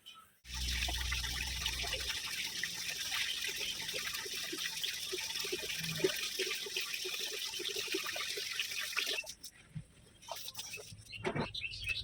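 Tap water runs steadily into a tub with detergent for soaking clothes, a continuous close splashing stream that cuts off near the end, leaving a few faint drips and household noises.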